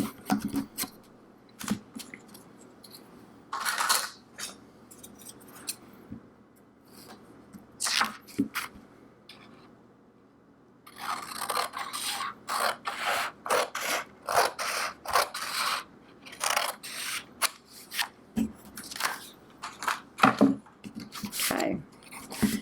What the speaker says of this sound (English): then use my scissors and just trim it off